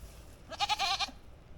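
A female goat bleats once, close by: a wavering, quavering call of about half a second that stands out clearly above quiet outdoor background.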